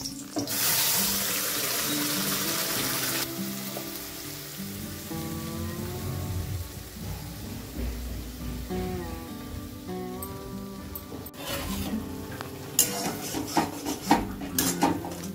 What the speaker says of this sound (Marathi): तेल छान गरम झाले, आता कढीपत्ता घालून घेते आणि वाटण घालून घेते